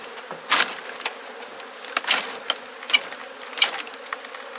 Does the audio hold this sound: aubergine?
no